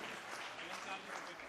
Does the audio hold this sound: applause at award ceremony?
yes